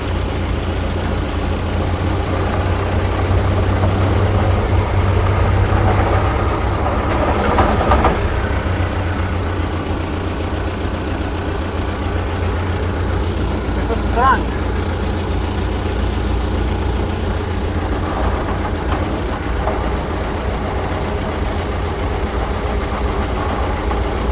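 A T-40 tractor engine runs steadily nearby, a loud continuous low rumble with a faint knocking texture throughout and no voices.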